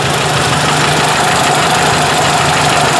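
A Ford 800 tractor engine idles steadily at close range with a slight exhaust leak, a continuous even rumble with a faint ticking knock running through it and no voices.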